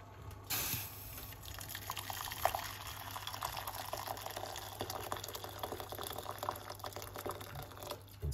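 Hot water trickles and splashes into a cup for a drink, a faint, steady pour lasting several seconds with no voices.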